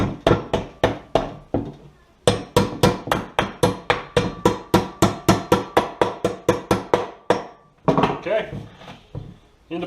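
Steady series of about thirty sharp hammer taps knocking a part into place on a surface conditioning tool, close and loud, with a brief pause near the start and a looser burst of knocks at the end.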